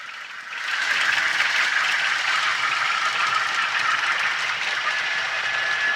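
An Intermountain U18B model locomotive's Loc-Sound 4.0 decoder engine sound effect hums and rumbles steadily, a continuous mechanical drone with faint rattling and no voices.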